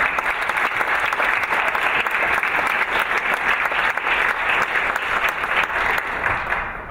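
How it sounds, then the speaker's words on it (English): A concert audience applauds a jazz ensemble, with steady, dense clapping that fills the room at an even level, and no voices over it. "So another round of applause for these guys."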